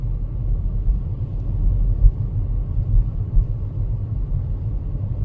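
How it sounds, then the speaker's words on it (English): A car driving through a Minnesota blizzard in whiteout conditions in St. Paul, giving a steady, loud low road and engine rumble inside the cabin with a few soft bumps and no talking. "Driving in a blizzard, whiteout."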